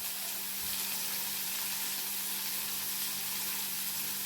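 Pirandai (adamant creeper) leaves fry in a pan with a steady, close, loud sizzle that holds evenly throughout, with no voices.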